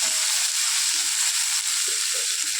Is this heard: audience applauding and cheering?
no